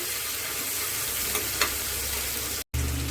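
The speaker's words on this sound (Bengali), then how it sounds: "এই যে মশলাটা আমি জলে ভিজিয়ে রেখেছিলাম, সব মশলাগুলো একসাথে দিয়ে দিলাম" A soaked mix of ground spices goes into tomatoes frying for a fish curry. It sets off a dense, close sizzle with a couple of stirring clicks, then a brief cut and the sizzle resumes.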